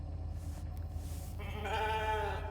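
A sheep in The Alters lets out a drawn-out, wavering bleat over a low droning hum, fairly close and alone with no voices.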